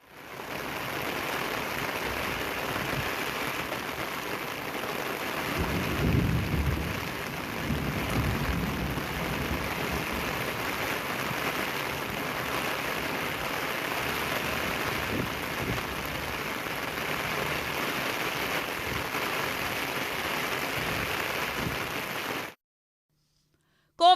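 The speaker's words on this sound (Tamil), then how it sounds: "கோவில்பட்டி, திட்டங்குளம், மந்தித்தோப்பு உள்ளிட்ட பகுதிகளில் கனமழை கொட்டியது." Heavy rain pours down steadily in Thoothukudi, a dense, continuous wash of water that stays loud and even throughout, with no voices, before dropping abruptly to near silence at the end.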